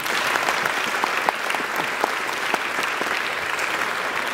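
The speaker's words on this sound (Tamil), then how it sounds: "அம்மாவுக்கும் அப்பாவுக்கும் ஒரு தடவை கைத்தட்டுங்களேன்." An audience at an award ceremony claps for the parents of an honoree, steady massed applause with a few sharper individual claps standing out, continuous and moderately loud, with no talking.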